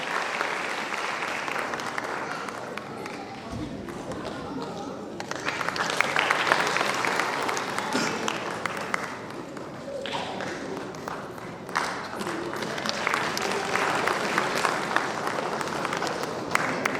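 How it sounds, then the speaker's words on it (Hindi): A large audience claps loudly and steadily for an award recipient at a sanitation honours ceremony in Varanasi, a dense, sustained wash of clapping that swells midway and holds to the end. "एक बार पुनः जोरदार तालियों से आपका अभिनंदन करें।"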